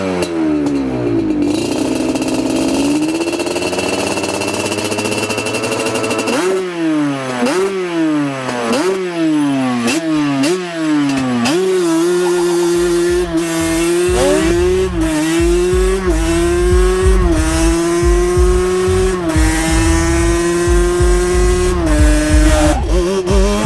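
A 1992 Yamaha Banshee two-stroke engine idles crisply, then is blipped in a series of sharp rising revs before climbing and holding at full throttle with a loud, buzzing, crackling wail up close.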